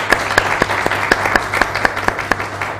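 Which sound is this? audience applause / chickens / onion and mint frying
audience applause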